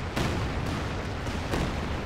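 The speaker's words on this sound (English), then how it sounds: "Bombs away!" Artillery bombardment in Company of Heroes 2, a few muffled booming impacts over a dense, steady rumble of battle noise, heavy and low without sharp cracks.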